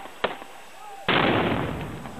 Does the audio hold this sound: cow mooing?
no